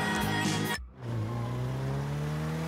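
Car engine in GTA V, a BMW, cutting out briefly then settling into a steady, loud hum with a rising whine, close and alone without talk.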